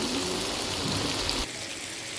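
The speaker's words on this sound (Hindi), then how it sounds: "ये यखनी को ढाल लेंगी इधर से।" Chicken yakhni stock poured steadily from a pot, a close, loud liquid splash and trickle that cuts off abruptly partway through, leaving a quieter drip and rush.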